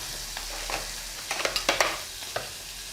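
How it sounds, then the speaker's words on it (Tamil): Sliced onions sauté in a pan for an egg curry, the steady sizzle broken by a run of sharp scraping stirs near the middle, close and fairly quiet with no talking. "இந்த வெங்காயம் சீக்கிரமாக வதங்கிடும்."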